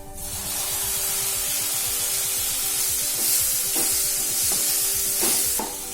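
Chopped tomatoes are stirred into a sizzling soya chunk gravy in a pan. A steady frying hiss runs throughout, with a few scraping strokes of the spoon close by.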